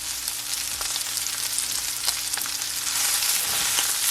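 Sausages and onion fry in a pan with a dense, crackling sizzle, close and loud, with occasional sharper pops and stirring scrapes, growing a little louder toward the end.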